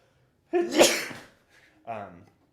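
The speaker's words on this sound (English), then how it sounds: "I'm going to sneeze." A single loud, close sneeze bursts out sharply, followed a moment later by a short voiced sound.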